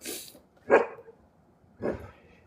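A dog gives three short barks, a sharp yip at the start, then two louder woofs spaced apart, close and alone in a quiet room.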